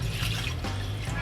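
Water poured into a cooking pot for jackfruit jam, a steady close splashing trickle lasting just over a second with no talk.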